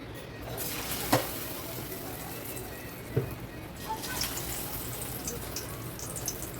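Pakoras frying in oil in a kitchen, a steady low sizzle with a few sharp clinks of utensils against the pan, fairly quiet and continuous, with occasional faint background sounds.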